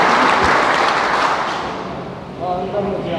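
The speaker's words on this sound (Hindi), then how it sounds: "तालियों से इनका स्वागत कीजिए।" Audience applause welcoming a panchayat head from Saho, Manipur, at a VIP conference: loud, dense clapping that fades, with voices starting up near the end.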